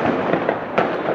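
New Year's Eve firecrackers bursting outdoors in a rapid crackling series, dense sharp pops layered over a constant noisy backdrop with one louder bang near the end.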